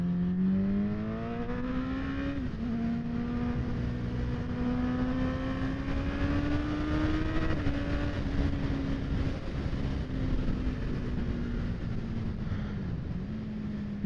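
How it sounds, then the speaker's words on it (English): A motorcycle engine on a race track drones steadily and loudly throughout, its pitch rising slowly and wavering, with slight dips that suggest stuttering running on a full fuel load. "My bike's gone all stuttery."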